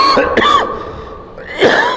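Close coughing at a religious gathering in a mosque, a few sharp bursts with a throat-clearing rasp, then a short gap before another harsh cough.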